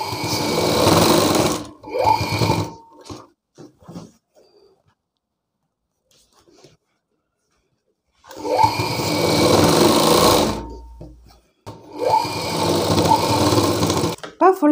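An electric sewing machine stitches a folded school uniform coat in loud, rapid bursts separated by quiet pauses, with a voice heard talking nearby.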